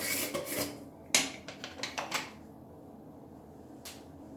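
A jar of Tough & Tumble No.2 Solid & Shine Lava pomade is opened with a short run of close, dry scraping and twisting rasps, a sharp click, then near silence.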